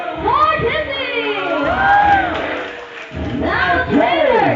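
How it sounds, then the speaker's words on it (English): An audience at a bird show at Zoobic Safari cheers loudly for Timmy. Shouts and whoops from many voices, adults and children together, swell in waves close by. "give me your loudest cheer for Timmy"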